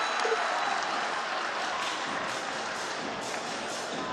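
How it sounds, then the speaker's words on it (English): A basketball arena crowd cheers and applauds loudly and continuously after an and-one play during a Canterbury Rams versus Tauranga Whai game. "And don't the crowd love it?"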